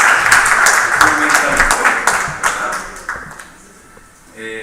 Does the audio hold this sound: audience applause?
yes